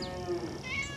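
A farm cat meows in a drawn-out, wavering call that rises and falls, heard close and alone with no one talking.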